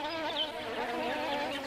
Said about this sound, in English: Bees rob the banksias of their nectar